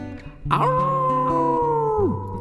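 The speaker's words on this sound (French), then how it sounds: "Cookie repousse à nouveau un hurlement." A long, mournful dog-like howl in a children's story about a wolf, rising sharply then holding a steady tone before falling away, loud and close with no talk.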